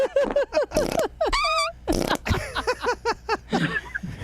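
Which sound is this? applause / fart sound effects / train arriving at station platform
fart sound effects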